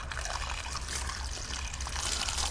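Water runs steadily from a tap while food is washed, a continuous close splashing trickle with no pauses.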